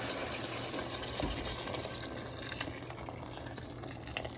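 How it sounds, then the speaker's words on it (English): Boiling water pours in a steady, continuous stream into a cooking pot for chili, a soft rushing splash with faint clinks, fairly quiet and close. "Pour in our hot water."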